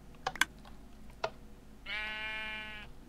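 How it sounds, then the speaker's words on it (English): A Minecraft sheep gives one drawn-out, nasal bleat after a few quick keyboard clicks, clear and close with no talking. "the sheep were actually spawned with the eggs"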